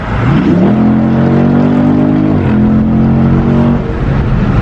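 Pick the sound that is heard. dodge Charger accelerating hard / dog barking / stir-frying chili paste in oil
dodge Charger accelerating hard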